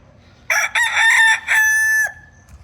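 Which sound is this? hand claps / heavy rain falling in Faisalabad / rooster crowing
rooster crowing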